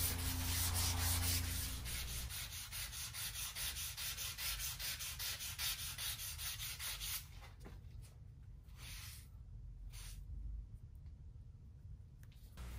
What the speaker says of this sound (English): Do not sand through the veneer front.